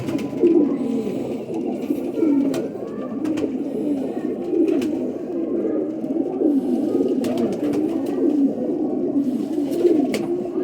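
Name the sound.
pigeon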